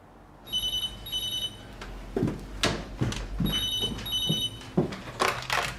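A telephone bell rings in two repeated double bursts, clear and fairly loud against a quiet room, with a few soft knocks and movement sounds between the rings.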